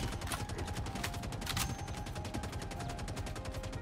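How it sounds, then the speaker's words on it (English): Sustained automatic gunfire in the video game Star Citizen, rapid evenly spaced shots continuing throughout, loud and dense, with one sharper burst standing out briefly. "I hear a lot of shooting."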